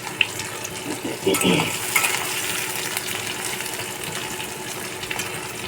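Onions sizzle and fry in a pan with a steady, close hiss, and a few knocks and clatters of stirring come through near the start before the frying settles into an even crackle.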